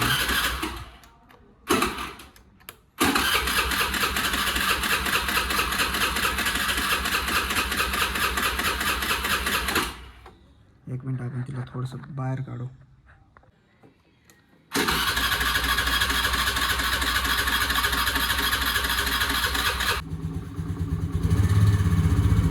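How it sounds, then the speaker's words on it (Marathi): A Honda Dio scooter with a starting problem cranks and catches, running loudly in a steady buzzing idle, cutting out briefly amid a speaking voice before restarting and revving. "झाली आपली गाडी स्टार्ट, तुम्ही बघू शकता"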